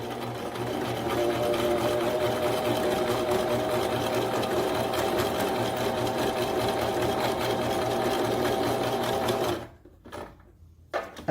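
A sewing machine stitches fabric in a steady, loud mechanical whir with a rapid needle rhythm, running continuously for about nine seconds before stopping abruptly, followed by a few faint handling knocks.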